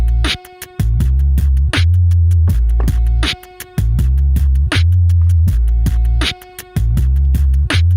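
A repeating looped pattern on a Boss loop station with a siren effect: sharp percussive hits over sustained low tones, cycling in a steady rhythm, loud and alone.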